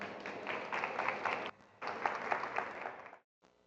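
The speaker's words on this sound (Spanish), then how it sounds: "Vamos a recibirlo con un fuerte aplauso." Audience at a talk on entertainment and consumers applauding to welcome a speaker, steady dense clapping that pauses briefly and resumes before stopping abruptly.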